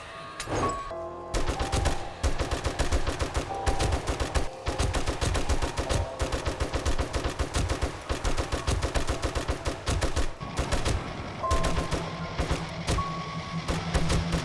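Rapid bursts of gunfire from a weapon in the zombie survival game 7 Days to Die, dense and continuous with loud repeated shots over game ambience and a steady tone near the end.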